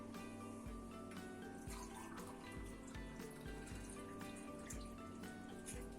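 About a glass of water poured into sugar for kadayıf dessert syrup, a steady liquid wash with a faint running trickle under a constant low hum, with no voices.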